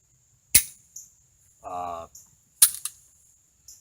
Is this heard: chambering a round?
yes